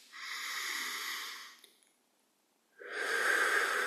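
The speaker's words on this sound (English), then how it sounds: "taking 3 deep breaths in through the nose" Two long, deep breaths drawn in through the nose during a calm guided meditation, each a soft airy rush lasting over a second, close and alone, separated by a short silent pause.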